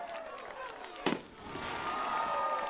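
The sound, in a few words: fireworks going off at a football game touchdown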